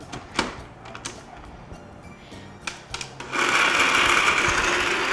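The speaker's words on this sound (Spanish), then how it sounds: "Mientras esto se licúa" A kitchen blender blends milk with tortillas for a cream soup. A few clicks and knocks come first, then the motor kicks in with a loud, steady whirring roar that continues to the end.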